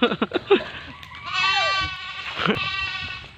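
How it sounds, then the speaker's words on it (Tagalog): A goat bleats in a long, wavering cry, followed by a second shorter bleat, after a few quick knocking sounds at the start. "loko-loko tong kambing na to ha"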